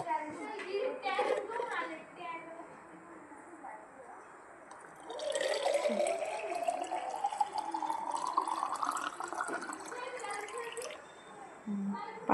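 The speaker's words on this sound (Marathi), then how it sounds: "तर चला आपण आहे ना ह्याच्यात पाणी ओतू आणि ते झाड लावू" Water is poured into a plastic bottle with a hole in its cap to plant a cutting. A steady trickle rises in pitch as the bottle fills, and someone talks before and over it.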